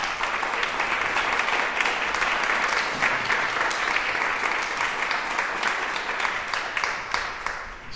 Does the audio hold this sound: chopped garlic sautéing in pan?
no